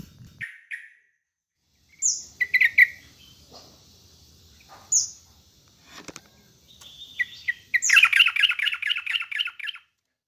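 Sooty-headed bulbul, or trucukan, calling alone and close by: bright bursts of squawky notes with gaps between them, ending in a rapid, busy run of chattering calls.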